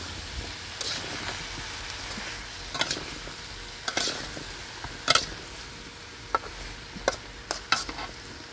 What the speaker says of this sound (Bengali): আমগুলোকে আমি কিছুক্ষণ উল্টে পাল্টে ভেজে নেব।